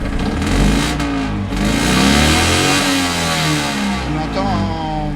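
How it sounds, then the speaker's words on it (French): Pickup truck engine revving in short bursts, rising and falling pitch sweeps over a rough idle, close and loud, with someone talking over it. "je vais couper sur une petite accélération du moteur."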